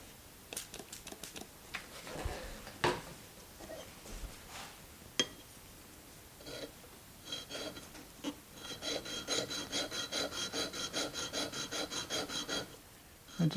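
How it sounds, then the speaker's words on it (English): A steel chisel back rasps steadily as it is rubbed flat on a 200 grit sharpening stone. Irregular strokes at first give way to a fast, even back-and-forth scrubbing rhythm, close and moderately loud. "I'm going to take this to my 200 grit stone, and I'll just work up from there"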